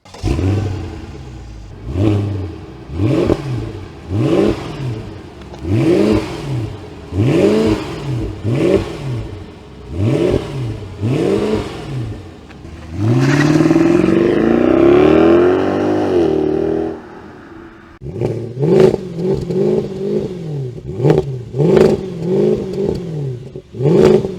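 A Mercedes W219 CLS63 AMG V8 revs repeatedly in short, rising blips, then holds a long sustained high-rpm pull before dropping back to another run of quick revs, loud and close with no talk.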